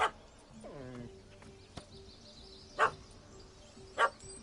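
A dog in The Witcher 3 gives a short, sharp bark, followed by a few louder barks spaced a second or so apart, with faint background ambience between them.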